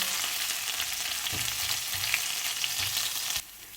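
Ginger and garlic fry in hot oil for a beef and broccoli stir fry, making a loud, steady close sizzle with a few soft stirring knocks, then cutting off suddenly near the end.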